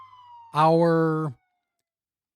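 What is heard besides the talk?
police sirens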